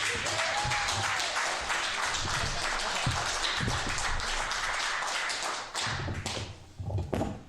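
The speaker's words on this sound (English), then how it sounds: "everybody give a big round of applause for your next comedian, Mike Pickerel." Sustained audience applause and clapping at a comedy show fills most of the clip, then tapers off into a few scattered claps near the end.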